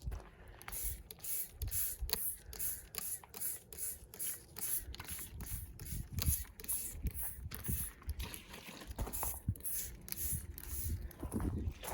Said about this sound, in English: so I'm just gonna go ahead and spray it